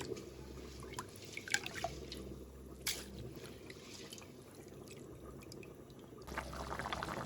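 Water bubbling softly in a cooking pot while seasoned Jamaican rice is being prepared, with faint, irregular pops and drips over a low steady simmer.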